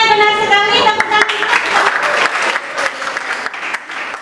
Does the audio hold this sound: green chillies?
no